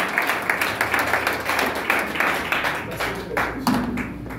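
Church congregation clapping and cheering in acclaim of Jesus, a steady rhythmic round of applause with voices mixed in, fairly loud and close throughout.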